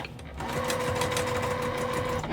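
A sewing machine stitches a crazy house quilt block, its motor whirring up after a brief quiet moment into a steady, continuous hum with no talking.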